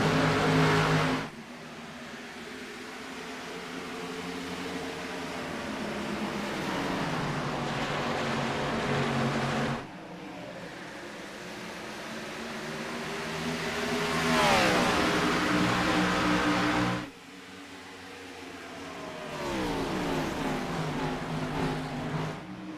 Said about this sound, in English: We'll just listen to the cars for a little bit while we try to fix this audio issue.